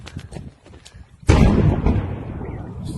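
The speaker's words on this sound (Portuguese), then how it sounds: "isso foi a grande explosão que o pessoal viu aqui" A large explosion at the port of Berdiansk bursts in suddenly and loud after a stretch of quieter background, then rolls on as a long, dense rumble that slowly fades.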